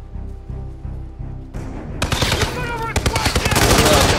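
AK rifle fire in Hitman 2, rapid bursts of loud, close shots that build into dense automatic fire, with overlapping cracks and rattling echoes.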